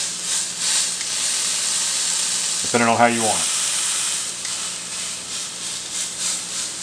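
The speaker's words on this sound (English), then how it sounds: "Normally about when it stops sizzling" Steady, broad frying sizzle of a steak searing runs throughout, with a brief spoken phrase partway through.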